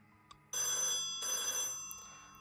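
A telephone rings inside the video game Escape Echoes of Yesterday, with two clear bell-like electronic rings separated by a short gap, loud and alone.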